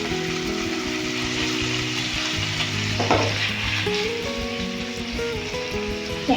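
Paneer pieces fry in butter in a pan over a low flame, giving a continuous close sizzle with a brief stirring scrape midway, set against faint steady background music.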